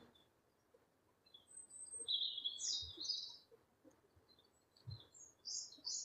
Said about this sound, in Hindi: ये है हमिंग बर्ड।